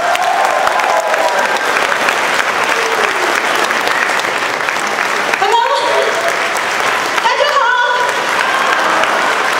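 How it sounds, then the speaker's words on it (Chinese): Enthusiastic audience applause welcomes a singer on stage at a cultural troupe performance in Atlanta, a loud, dense, sustained roar of clapping with crowd voices mixed in. "最热烈的掌声来欢迎徐景淳"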